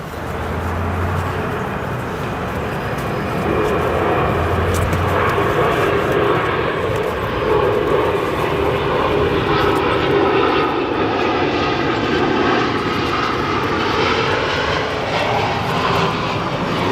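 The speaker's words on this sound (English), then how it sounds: "We got some aerodynamic braking going on with that 787." A Boeing 787-9 jet airliner landing at Chicago O'Hare with aerodynamic braking gives a loud, steady engine roar and broad rushing noise that holds for many seconds from a distance, with no voices over it.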